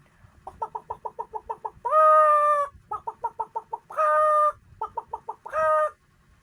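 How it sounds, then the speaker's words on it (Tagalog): Chickens and a rooster: rapid bursts of clucking alternate with three long, loud rooster crows, fairly close and with no talk over them. "What is the sound of chicken?"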